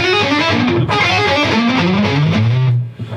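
Heavily distorted electric guitar playing a quick run of notes, loud and sustained, cutting off near the end.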